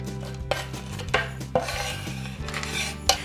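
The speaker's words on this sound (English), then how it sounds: "Just scatter over the chopped peanuts." Chopped peanuts are scattered over charred roasted broccoli and avocado in a metal roasting tin, giving light clattering taps and scrapes against the pan in a few scattered bursts, close and fairly quiet, without speech.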